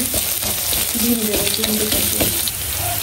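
Onion and chili sizzle in a pan as a noodle dish begins, a steady crackling hiss throughout with light stirring and a faint voice murmuring in the background.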